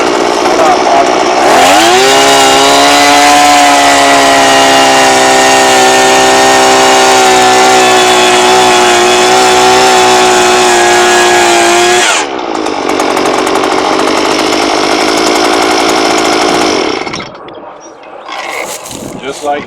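A gas-powered Earthquake 43cc auger powerhead drills a post hole in soil, its small two-stroke engine snarling loud and steady at high revs for about ten seconds, easing slightly, then winding down to idle near the end.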